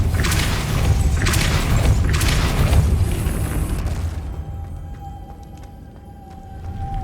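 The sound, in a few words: Depulso spell cast in the Hogwarts Legacy video game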